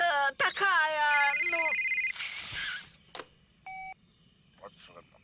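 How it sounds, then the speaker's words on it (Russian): A telephone rings in a Bob the Builder cartoon, a short electronic ringing tone that follows brief animated voices and sound effects, then sounds alone against a quiet background. "Это звонил фермер Пиклз"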